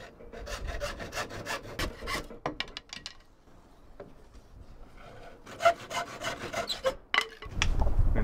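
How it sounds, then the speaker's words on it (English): Rhythmic rasping strokes of a hand saw cutting cane into equal lengths for a bee house, fairly close, with a few pauses between bursts of cutting. "we're going to get our cane and cut them into equal lengths"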